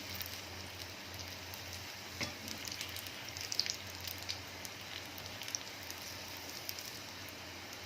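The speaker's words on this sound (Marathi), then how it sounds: "यांना पण असंच गोल्डन रंगावर खरपूस तळून घ्यायचं." Cauliflower pakoras for mixed veg pakode deep-fry in hot oil until golden, giving a steady, soft, hissing sizzle with faint crackles and no talk.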